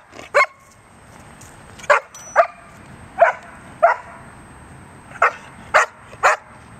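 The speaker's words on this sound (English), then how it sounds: "Why are you barking?" A dog barks in sharp, separate bursts, about nine barks spaced irregularly, close by with quiet gaps between them.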